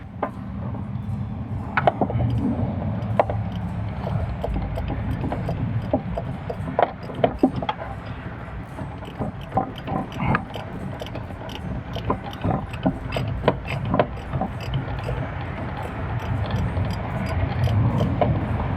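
Loosening the oil filter on a Ram Promaster van with a 3.6L V6 engine produces a run of close ratcheting clicks and metallic mechanism noise, in uneven bursts over a low background hum.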